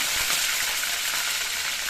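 Green chillies and curry leaves frying in hot oil in a pan for upma, a steady loud hiss and sizzle throughout, close and unbroken.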